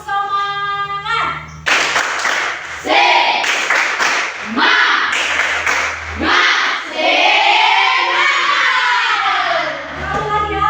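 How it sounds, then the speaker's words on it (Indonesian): Children doing a rhythmic Indonesian spirit clap, tepuk semangat, in a classroom ice-breaking game, bursts of sharp group claps in a patterned rhythm alternating with loud chanting and calling voices, with music in the background. "Tepuk semangat."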